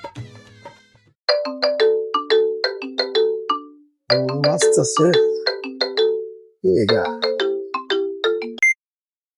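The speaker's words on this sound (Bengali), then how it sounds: "কি রে দোস্ত, ফোন আইলো কাইটা দিলি?" A mobile phone ringtone plays a loud, repeating melodic pattern of bright electronic tones, ringing steadily for several seconds with brief voices talking at the start and in a short pause.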